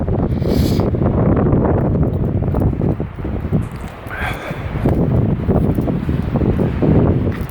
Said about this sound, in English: It's like really windy